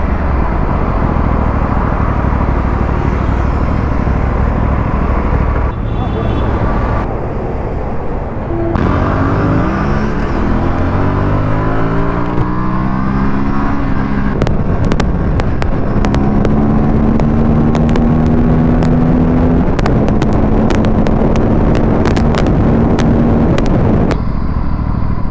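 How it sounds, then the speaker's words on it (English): Motorcycles including a Royal Enfield RS 457 and a Bajaj Pulsar NS 400 on a Sunday morning group road ride, with continuous engine drone, rising revs and gear changes under steady wind rush. "We have Mohit on his RS 457 and his friend is riding with us on Pulsar NS 400."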